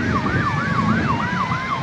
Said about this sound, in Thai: จะเปิดทางไหมเอ้ารถพยาบาลมา